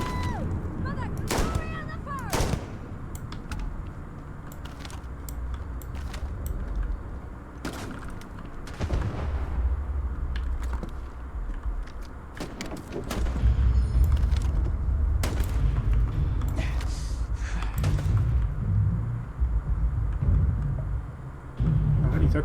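Enemy gunfire erupts in the video game Starfield, with sharp, irregular shots and heavier booms scattered over a continuous rumbling battle backdrop, growing denser and louder toward the end.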